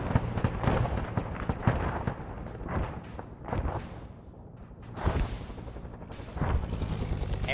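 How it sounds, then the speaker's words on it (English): Airstrikes in Arma 3 during a Vietnam-era assault on Hamburger Hill: repeated heavy booming impacts and rolling blasts, some near and some distant, mixed with scattered gunfire across the whole stretch, no talk. "More airstrikes coming in."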